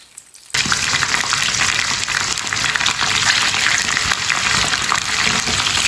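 Chopped green chillies drop into about a cup of hot oil and set off a sudden loud, dense sizzle that continues steadily and crackling, close by, with no voices.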